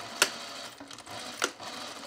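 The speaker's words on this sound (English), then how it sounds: "just going to back stitch over them too" A sewing machine back stitching across fabric tucks with a 1/4 inch seam allowance, heard as a faint low hum marked by two sharp clicks, quiet and close, with no talking.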